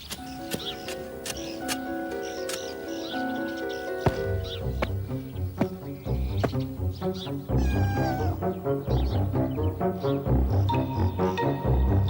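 A cat meows a few times in a garden setting near a venomous funnel-web spider, the calls rising over music and narration.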